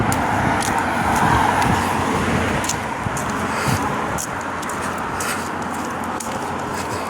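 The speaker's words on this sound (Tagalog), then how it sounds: "Yan, ingay ng mga sasakyan." Cars pass along a road in the UK, heard as a steady, fairly loud wash of traffic noise as someone walks beside it, with no clear pauses.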